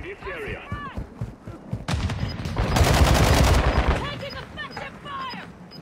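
Rapid gunfire bursts from the video game Call of Duty Warzone 2.0, loud and dense in the middle with shorter shots around it, while players talk excitedly over the action.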